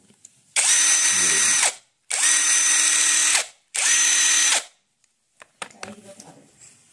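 Three loud bursts of an Ingco 20V cordless impact wrench whirring at high speed, each about a second long with short pauses, followed by quieter clattering.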